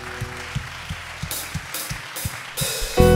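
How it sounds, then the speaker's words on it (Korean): Applause from a church congregation at a late-night Thursday worship service, steady rhythmic clapping spread through the hall with no one speaking, swelling louder toward the end. "우리 주님 앞에 영광의 박수를 드립니다"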